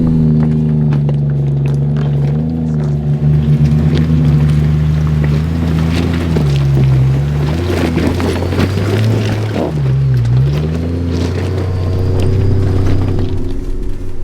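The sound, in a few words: turbo Barra Land Cruiser climbing a 4WD track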